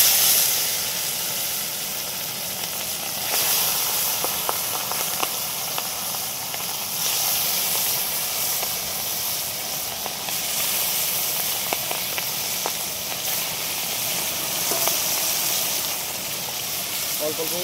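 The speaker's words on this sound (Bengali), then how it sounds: "নুন হলুদ মাখিয়ে রেখেছিলাম মাছগুলো এবার গরম তেলের মধ্যে একটা একটা করে দিয়ে দেবো" Salt-and-turmeric-coated fish frying in hot oil, a steady loud hiss and sizzle throughout with occasional small crackles and pops.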